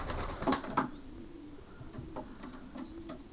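Young racing pigeons coo softly and repeatedly in their loft after returning from a race, with a few brief rustles and bumps mixed in.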